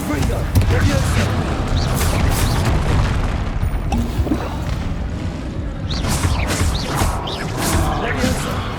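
Confringo spell blasts go off one after another in the Hogwarts Legacy video game, loud booming explosions amid constant rumbling combat noise, with someone talking over them.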